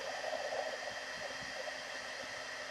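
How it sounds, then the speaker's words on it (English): A heat gun blowing over hot glue strings on a paper flower, a steady airy whooshing hiss, constant and fairly faint throughout, with no talking. "So I use my heat gun, but you can also use a hair dryer,"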